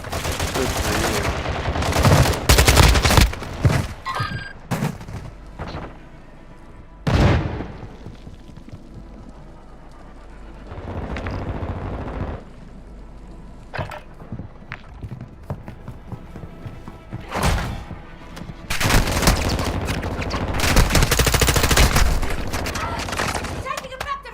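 Video game gunfire crackles in loud bursts and single shots, with explosive blasts and hectic battle noise throughout, while a player talks over the action.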